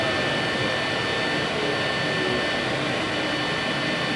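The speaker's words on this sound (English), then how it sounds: "we've got a Purex fume extraction system" A Purex fume extractor runs steadily in a workshop with a whooshing, vacuum-like drone and a faint high whine, constant and fairly close, with no pauses.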